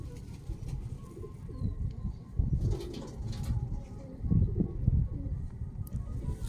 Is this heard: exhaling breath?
no